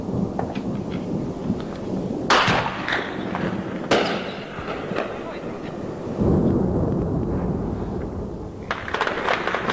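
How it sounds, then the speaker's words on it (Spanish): Heavy booming blasts and rumbling roll through continuously from explosions at an airport under air attack, with sudden loud bursts standing out from a dense, crackling background. "Siguen las explosiones en el aeropuerto"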